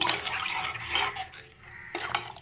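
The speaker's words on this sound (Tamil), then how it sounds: "நம்ம தேங்காய் சேர்த்து நல்லா இப்படி கலக்கிக்கோங்க" Green gram porridge with coconut being stirred in a pot, short wet scraping and sloshing strokes in two bursts separated by a brief lull, close and moderately loud.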